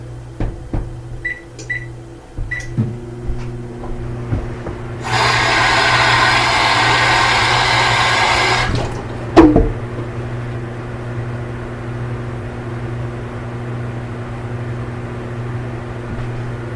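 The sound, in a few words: microwave oven running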